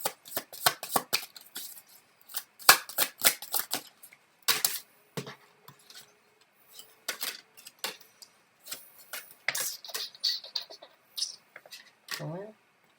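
Tarot cards shuffled by hand in a quiet room, a long run of quick, crisp riffling and snapping bursts with brief pauses between them, close and clear, with little else around.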